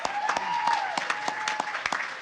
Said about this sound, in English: we should give another round of applause to Fangoria and all the guys here